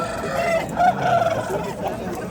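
A rooster crows in a drawn-out, wavering call over busy crowd murmur at a poultry market in Namangan, Uzbekistan, loud and fairly close, with other fowl clucking faintly.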